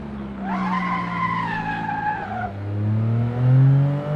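A race car on its second lap skids into a turn, tires squealing loudly in a long, wavering screech for about two seconds before the engine drone takes over, dropping low and then swelling.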